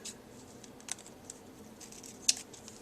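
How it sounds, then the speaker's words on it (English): Scissors trim a paper craft in a few quiet, light snips with one sharper cut, close and alone with no talking. "I'm going to take my scissors and just give it a little trim"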